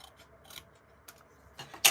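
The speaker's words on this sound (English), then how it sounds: "I'm just going to cut that off." Scissors snip a paper flap off a newspaper sheet during card making, a few short quiet cuts with a sharper close snip at the end, alone with no talk.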